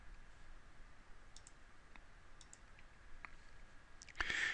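Faint, sparse mouse clicks in a quiet room, a few isolated light taps spaced apart, followed by a brief louder burst at the very end.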